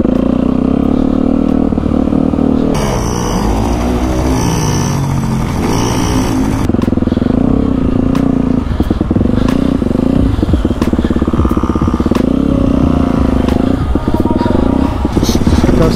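A small motorcycle ridden by a young child runs steadily and loudly, its engine note rising and falling slightly with some clatter throughout, close by.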